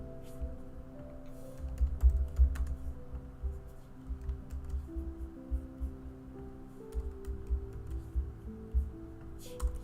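Computer keyboard typing close by, a continuous run of quick soft key clicks in uneven bursts with a low hum underneath, no speech.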